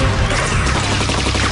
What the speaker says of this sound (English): David Barone picked up an automatic weapon and sprayed suppression fire.